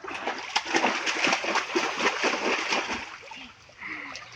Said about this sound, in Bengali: যাও তো একটু সাঁতার কাটো তো দেখি